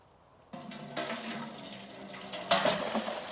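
Maple sap pours into an evaporator pan for boiling down into syrup, a steady splashing liquid stream that starts abruptly and swells louder near the end, with no talk over it.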